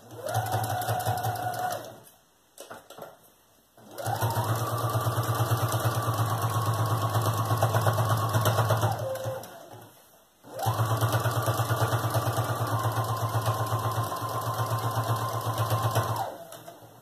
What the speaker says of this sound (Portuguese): aqui agora eu vou passar a costura de pé de máquina e um zigue-zague